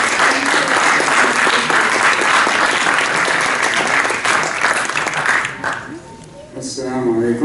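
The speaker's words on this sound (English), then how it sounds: "just another round of applause, just to Mariama." Audience applauses at the close of a presentation on Black Muslim history, with dense sustained clapping that thins out near the end as a voice begins to speak.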